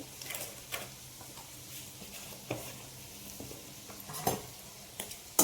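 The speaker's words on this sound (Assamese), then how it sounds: "এইখিনিত জিৰা তেলতে দিছোঁ, গোটা জিৰা" Whole cumin seeds go into hot cooking oil for a potato curry, giving a faint steady sizzle with occasional soft clinks and taps from a spoon or pan, quiet and close, with no speech.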